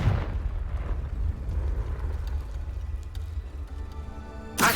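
A Confringo fire spell bursts in Hogwarts Legacy with a loud explosive boom, then fades into rumbling debris and ambient hum, ending in a sharp pop of impact.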